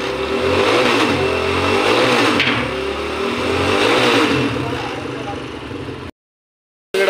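A newly bought motorbike's engine revs repeatedly, the throaty drone rising and falling for several seconds with voices mixed in, before cutting to a brief silence.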